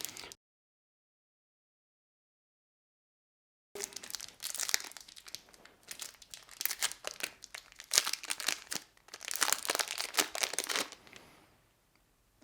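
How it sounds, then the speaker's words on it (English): Crackers packet from a 2018 Russian individual ration pack being torn open, a close, loud run of plastic crinkling and tearing bursts lasting several seconds after a pause, with no talking. "And next up we'll get our crackers open."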